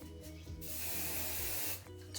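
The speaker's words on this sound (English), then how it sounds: "Just a little hairspray." Hairspray hisses from an aerosol can onto thick hair being teased into a messy bun, one steady close burst of about a second, with softer rustling of hair before and after.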